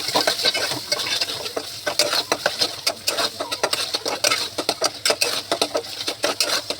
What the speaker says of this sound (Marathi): आता आपण ह्याला हलवून घेऊया.